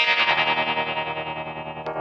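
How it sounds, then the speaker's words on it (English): Electric guitar through a Yamaha THR amp set to tremolo with spring reverb, a sustained chord pulsing rhythmically in volume, with a short pick scrape near the end and a lingering reverberant tail. "Here's tremolo with some spring reverb."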